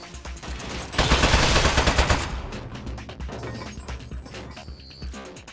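Automated turret gunfire in the Portal spin-off Aperture Desk Job: a dense, loud rattling burst that lasts about a second, then fades into a busier clatter with no voices over it.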